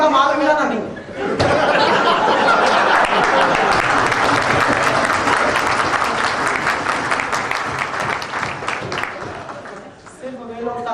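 Dense, sustained audience applause at a Hindi comic poetry gathering, loud and continuous for about nine seconds with scattered laughter mixed in, fading briefly before a voice resumes.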